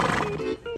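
A horse gives one loud, close whinny that fills the short moment, with no talking over it.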